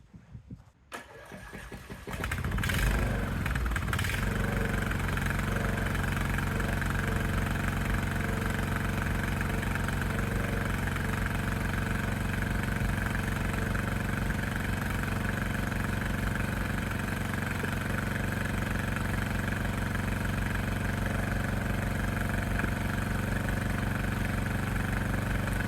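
A Briggs and Stratton Intek engine on a Craftsman DLS 3500 mower cranks and catches, then settles into a steady, loud, continuous idle that runs on unchanged.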